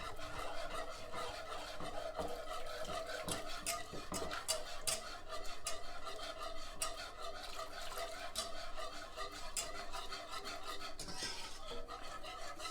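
Milk being stirred into a sauce in a pan for chicken cannelloni, a steady scraping and rasping of utensil against the pan with small clicks and knocks, continuous and fairly close throughout.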